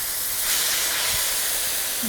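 Korean sweet potato noodles hiss and sizzle steadily in a hot pan as a tablespoon of cooking liquid goes in, a loud, even steamy spray that lasts throughout with no talking.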